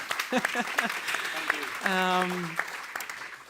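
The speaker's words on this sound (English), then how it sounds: "a round of applause for you as well" An audience at a press freedom event claps to greet a guest from Latvia, the scattered applause running beneath a person speaking over it.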